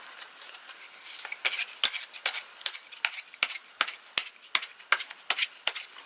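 Tarot cards are shuffled up close in a quiet room, a soft rhythmic series of papery riffles and sharp slaps repeating roughly twice a second, with no talk over them.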